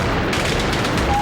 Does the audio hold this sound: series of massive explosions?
yes